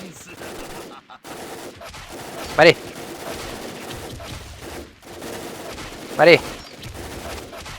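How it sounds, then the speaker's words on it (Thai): Two short bursts of fifty-caliber machine gun fire in a video game ring out a few seconds apart, each a quick loud rattle, while someone talks excitedly between them. "นี่กลห้าสิบนะครับ"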